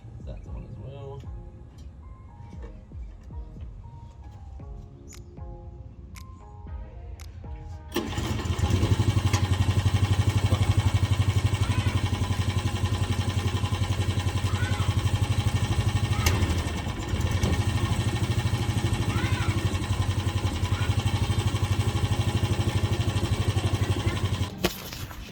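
A verticutter lawn machine's petrol engine catches abruptly and then runs at a loud, steady roar with a strong low hum, following a quiet stretch of faint clicks and fiddling.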